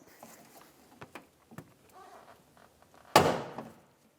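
A power window motor connector pops off inside the door of a 1996-2002 Toyota 4Runner with one sharp, close snap and a brief rattle, after a few small scattered clicks and taps.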